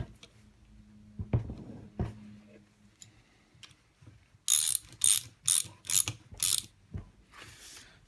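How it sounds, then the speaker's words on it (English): Ratcheting spanner tightening bolts during reassembly of a three-phase Brook motor from a Harrison 11 lathe, heard as a quick run of five or six sharp clicking bursts with scattered knocks before and after. "Get a spanner on it. Tighten these up."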